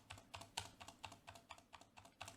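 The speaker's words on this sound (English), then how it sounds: "The spacebar is a little different." Keys on a Redragon K502 keyboard pressed in a steady run of about a dozen soft, semi-quiet clicks, with one slightly louder, duller spacebar-like thump, close up and alone.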